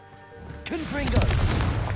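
A Confringo fire spell explodes in Hogwarts Legacy as a deep, booming blast that starts abruptly and rumbles on with crackling bursts, loud and close, with a brief voice-like cry riding over its start.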